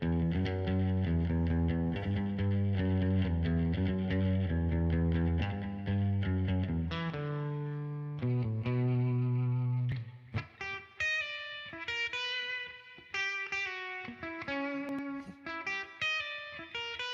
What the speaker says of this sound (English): Now that I got the reverb on.